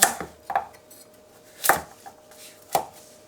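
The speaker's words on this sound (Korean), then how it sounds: "당근도 오이하고 비슷한 크기로 이렇게 썰어주시면 됩니다" A knife chopping carrots on a cutting board for a Korean-style spicy squid salad: four sharp, separate chops spaced irregularly, close and fairly loud, with quiet pauses between them and no talking.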